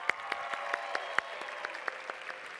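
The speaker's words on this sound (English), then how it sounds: "Give her a round of applause." Applause from an audience at a large national FFA convention general session, a steady wash of clapping with distinct sharp claps standing out, moderately distant and continuous throughout.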